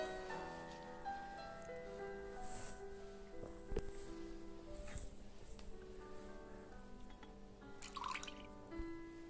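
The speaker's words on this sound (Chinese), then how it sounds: "然后倒30克左右的生抽，放些糖" Light soy sauce, about 30 grams, pours into a dish being made for Yuxiang three treasures, giving a soft trickle with scattered drips over steady tonal background music.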